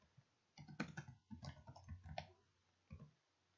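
Several sharp mouse clicks on a computer mouse while working in an Excel pivot table, close and fairly quiet, spaced irregularly with brief pauses between them.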